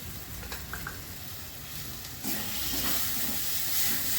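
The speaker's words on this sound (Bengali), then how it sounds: "এবার আমি মশলাটাকে ভালো করে কষিয়ে নেব।" Masala with a little sugar frying in a pan for an egg curry, a soft steady sizzle and hiss that swells louder partway through, with faint stirring scrapes, no voices.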